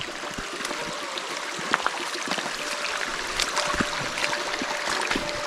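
Feet wade through flowing river water on a pilgrimage walk along the Narmada, with soft splashes and trickling over a steady stream, fairly quiet and close, with no talk.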